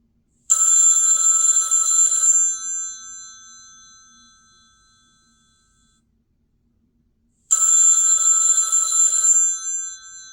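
A rotary telephone rings in two loud bell bursts a few seconds apart. The first burst trails off slowly into silence, and the second starts just as abruptly.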